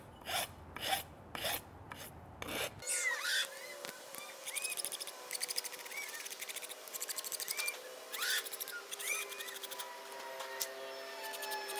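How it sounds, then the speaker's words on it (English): A hand file rasps across sinew on the back of a recurve bow, repeated scraping strokes, up close, heavier and more spaced at first, then quicker and lighter, with no talking. "So I'm filing more straight up and down instead of angling the bow or angling the file."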